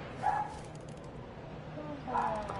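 A dog barks twice in the distance during a Madden 23 football game stream, two faint separate yelps about two seconds apart over low background noise.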